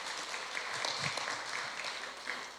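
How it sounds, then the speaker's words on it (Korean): A church congregation at a Sunday service applauds to welcome a visiting guest from Korea, a short burst of dense, steady clapping filling the room. "우리 박수로 환영하겠습니다"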